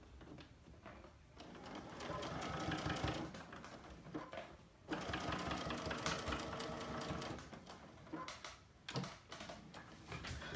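A sewing machine runs in long steady bursts while stitching a Henley neckband, its rapid mechanical whirr pausing briefly between runs, close and fairly quiet with no talking.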